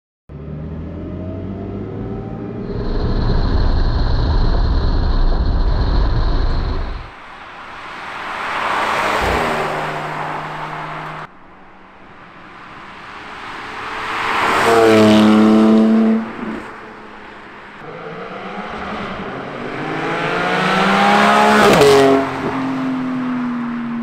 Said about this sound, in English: there you have it, the Soul Performance over axle pipe on the 718 Cayman GT4